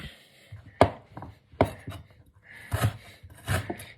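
Sharp knife chops strike a cutting board in an uneven rhythm while preparing noodle soup ingredients, about six distinct hits with softer scraping between, close and fairly quiet.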